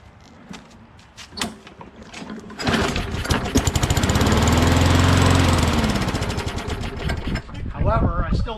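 A Poulan PXT12538 lawn tractor engine fires after priming, with a suspected bad diaphragm that keeps it from staying running. It catches after a few seconds of quiet handling noise, then runs loud and steady with a rising, wavering drone.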